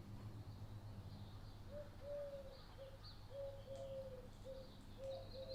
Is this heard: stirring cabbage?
no